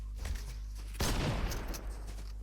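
Fortnite gunfire breaks out as a sudden, loud burst of rapid shots over a low steady hum, following a quieter stretch.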